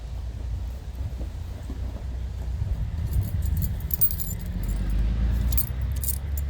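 Keys jangling near a Portland Leather backpack, a light metallic rattle that comes and goes under steady low background rumble, with no talk.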